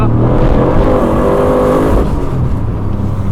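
A 900hp manual turbo LS Holden Commodore SSV accelerates hard in third gear, its engine roaring loud and close in one sustained, rising pull with no talk.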